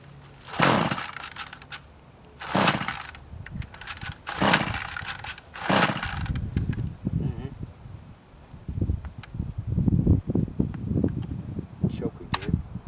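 A Troy-Bilt tiller engine is pull-started in a few sharp recoil-cord yanks, each a short loud rasping burst, with talk in between and no sign of the engine catching.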